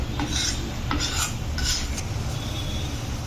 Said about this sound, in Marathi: छान आपल्याला तेल सुटेपर्यंत आता आपण हे परतून घेणार आहोत